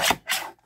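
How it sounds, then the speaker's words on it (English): Scissors trimming the edges off a small paper craft piece give two short rasping cuts, close and fairly loud, with a brief pause between them and no talking. "I keep trimming the edges off of this thing."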